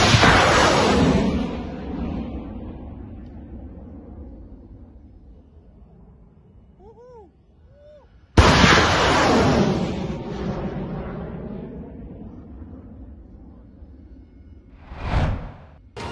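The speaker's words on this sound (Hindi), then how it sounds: "MLRS दागकर बड़े हमले किए।" MLRS rocket artillery strikes in war footage: two loud blasts, each followed by a long fading roar and rumble, with a brief whooshing burst near the end.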